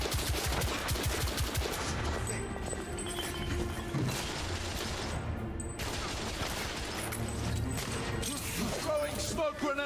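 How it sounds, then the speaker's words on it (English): Rapid gunfire from hip shooting in The Order: 1886 video game, a dense, continuous volley of loud shots rattling throughout with game effects and a voice speaking over the top. "I like shooting from the hip"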